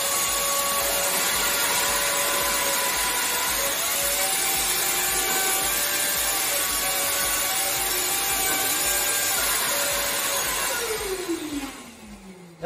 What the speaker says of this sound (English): And then you're going to want to take a vacuum